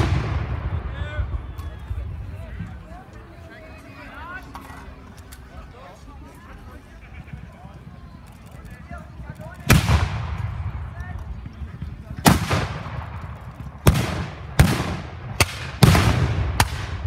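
Several sharp, loud musket shots ring out in a ragged volley near the end at a Landsknecht battle reenactment, each with a brief echoing tail, after quieter outdoor murmuring.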